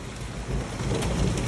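Heavy rain pours down steadily in a daytime storm, joined by thunder and small hail, with a dense, continuous wash of noise and low rumbling that swells slightly louder partway through.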